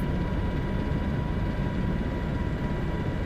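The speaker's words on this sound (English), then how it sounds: "Are you watching some dude fly VR helicopter?" Helicopter in a VR flight simulator game, a steady dense rotor and engine drone filling the low end, loud and continuous with no talk.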